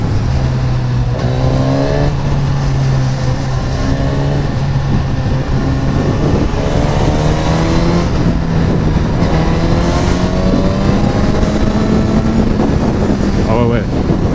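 Suzuki GSX-S 950 roadstre engine note on the move, a loud, steady drone with rising pitch as it accelerates, mixed with wind rush, and a rider talking over it toward the end.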